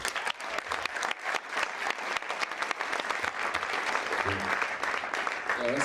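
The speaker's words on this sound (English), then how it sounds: "I'd like to give a big round of applause to Emmanuel Jal" Steady audience applause welcoming guest Emmanuel Jal onto the stage, a dense sustained wash of many hands clapping at an event, with a few voices faintly mixed in.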